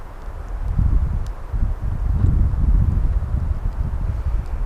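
Strong wind gusting outdoors over a dry forest, a steady loud rumbling roar buffeting the microphone in surging waves, with no voices.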